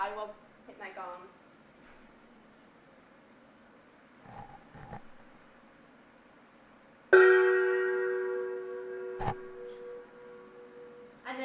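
A single gong strike rings out loudly and close, its shimmering metallic tone sustaining and slowly fading over several seconds, preceded by quieter scattered sounds and speech.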